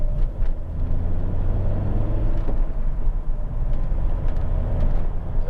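Interior of a Volvo V70 2.4 D5 SE estate on the move, a steady low road rumble and muffled drone with faint tyre noise, quiet and even throughout, without talk.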